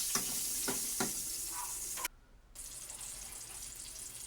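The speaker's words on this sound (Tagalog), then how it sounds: "Nagpainit lang po ako ng mantika. Then, ginisa ko na po yung onion." Onion sautés in hot oil with a bright steady sizzle and a few sharp stirring clicks, then cuts out briefly before a quieter sizzle resumes. No one speaks.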